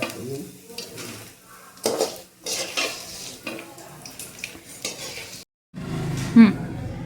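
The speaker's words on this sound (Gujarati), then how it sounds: "5 મિનિટ વધારે શેકવા દેવાનું ઘીમાં, એટલે દાંતમાં ગુંદ ચોટે નહીં" Edible gum roasting in ghee in a pan while it is stirred and scraped with a spatula, producing close, irregular scraping strokes over a soft sizzle, a short silent gap, then renewed clattering.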